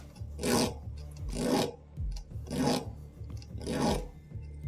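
An equaling file rasps across a steel 1911 thumb safety in four steady strokes, each a loud, hissing scrape close up with short pauses between them.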